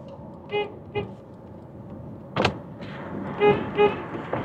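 A car horn sounds in short separate toots, two early, one loud blast in the middle and two more near the end, close and clear over a quiet background.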